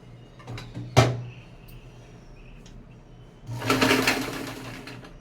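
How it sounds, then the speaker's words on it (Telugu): Sewing machine stitching around the edges of an old cloth doormat at home, a sharp clunk followed by a close burst of rattling stitching, with no voices. "అందుకని ఇలా కుడుతున్నాను"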